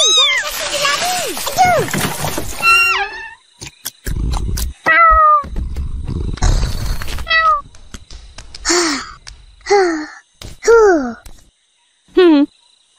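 A cat in the Upin & Ipin animated cartoon meows repeatedly while being bathed, with several rising and falling meows mixed with splashing water and children's voices talking between them.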